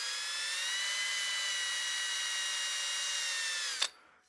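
A partially seasoned wooden bowl spins on a lathe while a spot sander works its undercut rim, giving a steady high-pitched whirring whine. The whine runs alone for several seconds, then cuts off abruptly with a brief clunk.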